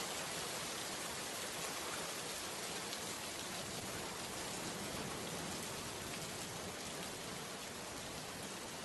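Steady rain pours without a break in a cartoon village scene, a dense, even hiss of drops across the whole stretch, loud and close, with no voices over it.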